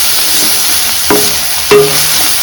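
Salted rice mixture for egg rice frying in a pan, a steady loud sizzle with two sharp metallic scrapes of a spatula against the pan.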